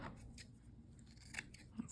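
Scissors snip through paper or craft material for a butterfly-themed junk journal, a few quiet, close cuts at a steady easy pace with faint rustling in between.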